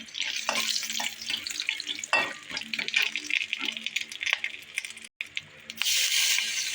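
Bay leaves dropped into hot oil left over from frying potatoes, a steady crackling sizzle with bursts of spitting, close and fairly loud, briefly cut off before resuming stronger.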